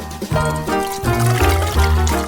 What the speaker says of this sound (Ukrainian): Тепер заливаємо молочком.